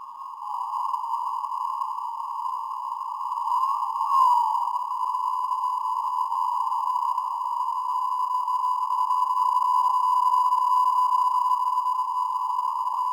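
A weak PSK digital radio signal received on an Elecraft K4 transceiver, a continuous steady warbling tone held unbroken for over thirteen seconds, even and moderately loud, with no voices.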